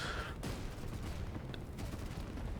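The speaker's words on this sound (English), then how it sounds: "That's what 15 commandos or so sound like when they're just pushing uncontested" Massed gunfire from roughly fifteen commandos advancing unopposed in the naval strategy game Naval Action, a dense, continuous crackling rumble held at steady loudness, distant and blended into a wash of overlapping shots.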